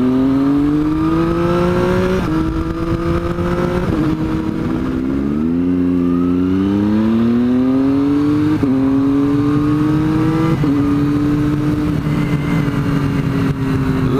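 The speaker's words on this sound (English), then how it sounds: "Exhaust is sounding fantastic today, as usual, crackling away." Triumph Street Triple motorcycle on an autumn ride, its engine note rising and falling through quick-shifted gear changes, loud and continuous with a steady, raspy exhaust tone.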